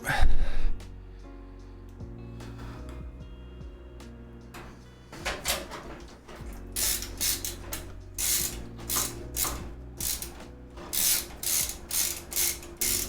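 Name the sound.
driving screws into a PC during build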